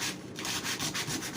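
Sandpaper rubs back and forth across a wooden frame in quick, even strokes, close and quiet with a soft scratchy rhythm.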